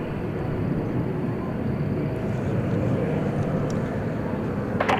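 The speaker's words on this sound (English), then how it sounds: "It's a 5-year-old Dreamliner Dash 9." A five-year-old Boeing 787-9 Dreamliner at DFW Airport gives a steady, loud, broadband engine roar that holds evenly throughout with no break.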